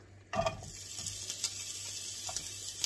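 Chopped onion, half a small one, drops into hot olive oil in a pan and sets off a sudden sizzle, then a steady frying hiss with a few stirring scrapes, close up and with no talking.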